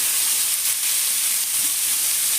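Star fruit pieces hit hot oil and frying spices for a chutney, raising a steady, loud, broad sizzle and hiss that holds without a break and carries no talk.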